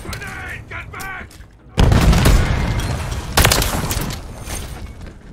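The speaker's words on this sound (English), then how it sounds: "Grenade! Get back!" A grenade goes off in a multiplayer shooter video game: a sudden loud, broad blast, then a rumbling tail and a second burst about two seconds later, with a voice talking earlier.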